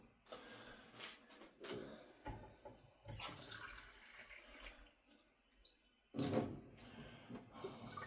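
Water is poured from a small espresso cup into flour for bannock bread at a wild camp, a few short faint splashes and trickles with quiet gaps between them.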